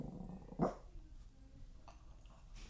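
A guard dog lets out one sharp bark at people in an indoor hallway, then goes quiet with faint rustling and a softer noise after it.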